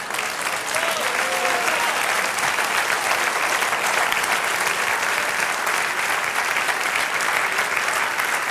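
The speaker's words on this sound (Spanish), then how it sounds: "Sí, dale aplauso." A church congregation breaks into applause during a sermon, with thick, sustained clapping from many people that swells within the first second and holds loud and even to the end.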